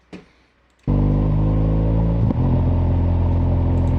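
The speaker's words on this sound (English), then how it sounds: "So this is just the bike engine noise now." After a short pause, a motorcycle engine roars to life and drones steadily and loudly while riding, a dense low rumble with one brief dip in pitch.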